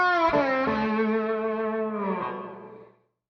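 A slide guitar lick imitates a harmonica, a gliding, bending tone that swells and slides between pitches before fading out after about three seconds, played alone with drive and echo.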